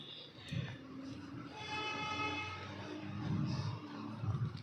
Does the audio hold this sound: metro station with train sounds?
yes